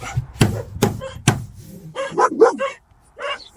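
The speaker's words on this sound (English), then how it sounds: "dog's going nuts." Dog barking in bursts near a boat floor being fitted and fibreglassed in a workshop, several sharp loud barks early followed by yapping and whining sounds.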